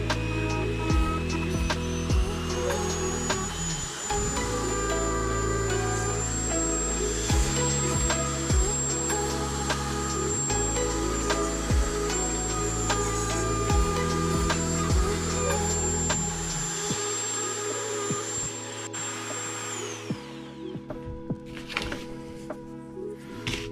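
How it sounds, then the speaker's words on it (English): A Dremel rotary tool etches a groove into a piece of scrap wood, a high steady whine running near and loud for about twenty seconds over a low motor drone, then winding down. "take a Dremel and just etch that out"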